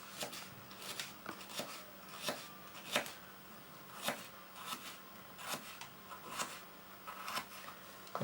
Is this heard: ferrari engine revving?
no